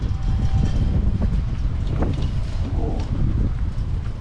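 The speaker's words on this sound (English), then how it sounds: "the wind's starting to pick up." Wind on Mount Buller rumbles steadily and loudly into the microphone outdoors, a constant low buffeting roar with no pauses across the few seconds.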